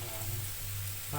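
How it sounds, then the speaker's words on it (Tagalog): Takoyaki fries in hot oil, giving a short, steady hiss and sizzle that holds at an even level, with a brief rise in activity at the very end. "Diyan din tayo mag-prito"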